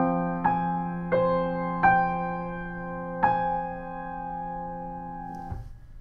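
Piano playing a right-hand pattern over an F perfect fifth from a song, four sustained struck chords ringing on with a fifth softer note near the end, close and clear with no talking.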